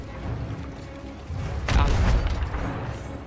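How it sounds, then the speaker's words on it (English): A ship's cannon fires in a multiplayer sailing video game: one loud, deep boom with a short rumbling tail, set against steady background game noise. "Wait, no, fire that cannon."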